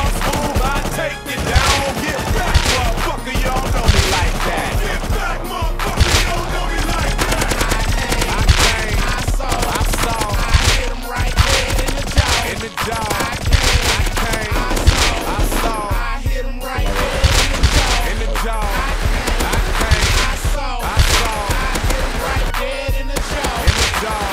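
Loud, dense rifle gunfire from the video game Rust, with rapid shots and bursts firing almost nonstop and close, some sharper cracks standing out above the continuous clatter.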